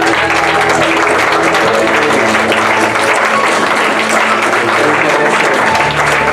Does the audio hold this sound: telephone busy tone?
no